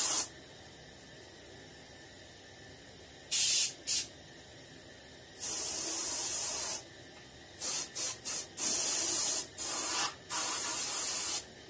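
Short bursts of airbrush spray hiss onto a skin-mounted bluegill fish, some brief puffs and some longer passes of a few seconds, separated by quiet gaps, close and crisp.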